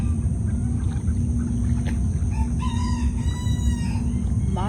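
Chickens cluck and a rooster crows in a wet, muddy yard after heavy rain, the birds' calls rising over a steady low rumble of rain and background noise, no speech.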